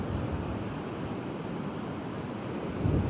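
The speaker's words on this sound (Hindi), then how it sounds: "ये मस्त लगता है जब झाग की तरह आता पानी बाहर एकदम।" Sea waves wash foamy water up onto the shore at Bhalka Tirth, a steady broad rush of surf that swells slightly louder near the end, with no voices.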